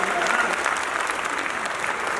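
Steady applause from a live audience at a Hindi poetry recital, loud and continuous throughout with no voices over it.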